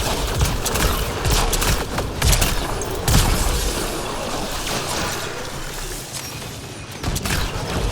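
Sustained gunfire from Mass Effect Andromeda, rapid repeated shots and bursts with booming impacts, loud and continuous for several seconds with little talk.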